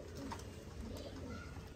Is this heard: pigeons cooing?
yes